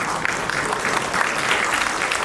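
Audience clapping steadily for a guest introduced on stage at a Malayalam event, a dense, continuous burst of applause that stays at an even level for a couple of seconds, with no voices coming through.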